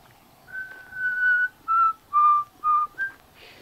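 Someone whistles a short melody up close: one long held note, then several shorter notes with brief gaps between them.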